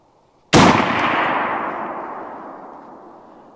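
A single loud, close rifle shot from a Marlin chambered in .375 Winchester firing 38-55 Winchester Buffalo Bore ammunition: a sharp blast followed by a long, slowly fading echo.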